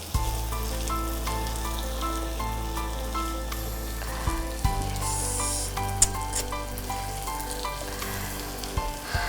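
Tomato pieces fry and sizzle in a pan for Dindigul thalappakatti mutton biryani, a steady crackling hiss with occasional clinks and stirring scrapes.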